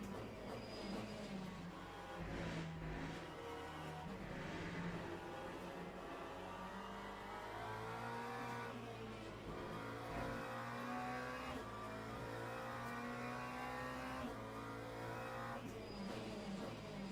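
LMP2 race car engine in a racing video game, a steady sustained drone with shifting pitch as it revs and gears change, continuous and fairly loud with no voices.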